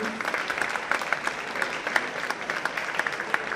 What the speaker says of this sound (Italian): facciamo un applauso per amici di Seschi